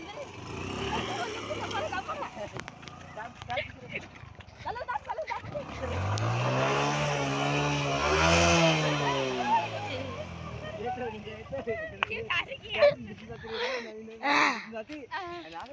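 A vehicle engine revs on a farm as a learner driver practises, rising to a sustained loud roar in the middle and then dropping away, while people talk over it before and after.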